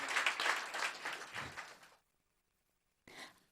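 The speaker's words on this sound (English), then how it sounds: "one more round of applause for Jason" Applause at a town council meeting in Los Gatos, a burst of many hands clapping that fades out after two seconds, then silence, then a brief short sound of clapping again.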